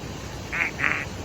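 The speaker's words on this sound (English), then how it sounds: "That's definitely a hook-billed parrot." A wild hook-billed parrot calls twice near a rainforest eco-lodge in Reventador, Ecuador, two close, harsh, nasal squawks over a steady background hiss.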